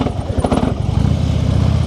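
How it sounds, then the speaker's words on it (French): A motorcycle engine labours at low revs near stalling while the rider slips the clutch at the friction point during a slow-control training exercise, giving a close, loud, uneven chugging rumble with rapid pulsing throbs. "c'est ce qui se passe quand le moteur n'a pas assez de puissance"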